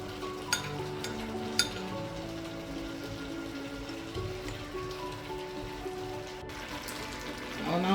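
Beef and cabbage being stir-fried in a pan, a steady close sizzle with a few sharp clinks of the utensil as the food is mixed, no talking.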